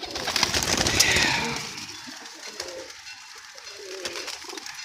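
Teddy pigeons cooing nearby, soft repeated coos and some wing and rustling noise, louder at first and then fainter.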